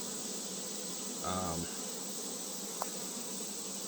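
Honey bees hum in a steady, faint drone around an open hive during a honey flow, with a short, louder buzz of a single bee passing close by partway through.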